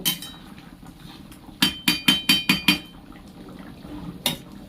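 Prawn curry being stirred in a pan: a quick run of five or six sharp metallic clinks of a utensil against the pan, close by over a low background hum, with a single extra clink shortly after.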